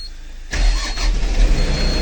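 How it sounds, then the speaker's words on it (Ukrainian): A tractor diesel engine, a 1204 DTZ, cranks and catches, settling into a loud, low rumbling idle up close. "Пуск двигуна."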